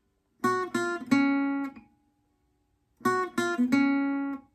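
Plucked guitar playing the second run of the riff from a song, two identical three-note phrases separated by a short silence, each final note sustaining briefly; close and clean, no talking.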